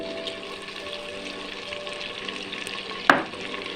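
Ginger garlic paste fries in a pan with steady sizzling, with a brief clatter of stirring near the end, close and moderately loud.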